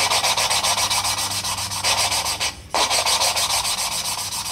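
Engine valves being lapped into their cylinder head seats, a steady back-and-forth grinding rub that keeps going throughout, loud and close, with one brief pause partway through.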